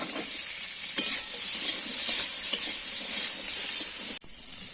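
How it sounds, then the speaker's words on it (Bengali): Vegetables including beans, carrot and aubergine fry in a pan for a winter khichuri, a constant bright sizzle with faint stirring, briefly dropping off near the end. "বেগুন দিয়ে ভালোভাবে ভেজে নেব"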